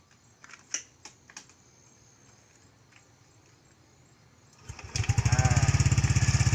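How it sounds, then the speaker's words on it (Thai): A Yamaha NMAX155 scooter engine starts after a few faint clicks and settles into a steady, loud, close idle to warm up, with a rapid even putter. "จากนี้เราจะมาสตาร์ทรถทิ้งไว้สัก 1-3นาทีก่อนนะครับ เพื่อเป็นการวอร์มเครื่องนะครับ"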